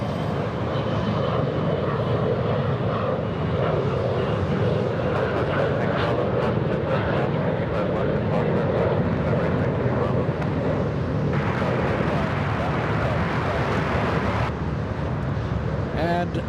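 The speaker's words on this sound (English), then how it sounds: "let's go and zoom in to a north arrival. Virgin Atlantic, this one right here" Virgin Atlantic airliner arriving on the north side at LAX, a sustained, loud jet engine roar that swells and persists across the clip, with some wind noise on the microphone.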